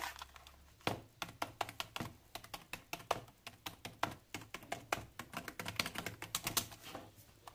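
Keys are pressed on a Logitech K230 wireless keyboard, giving a run of close, light plastic taps in an irregular typing rhythm with no talk over it.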